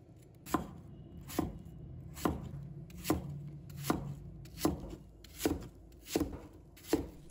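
A knife chops an apple into small pieces on a cutting board, eight evenly spaced crisp chops close by over a quiet background.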